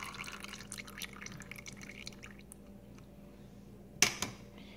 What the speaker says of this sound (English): So this is my 1 cup of vegetable oil. I'm going to add it to it.